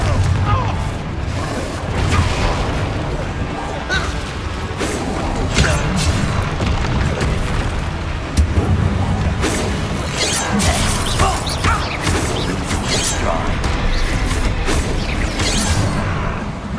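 Repeated booming spell blasts from a Confringo fire curse in Hogwarts Legacy, loud and dense, crashing one after another over busy combat noise with no gaps of quiet.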